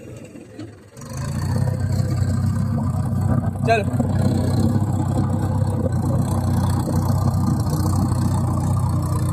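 A tractor engine with power steering runs at a steady, loud idle after starting up at close range, a continuous low rumble with a brief rattling click partway through and a short spoken word near the start.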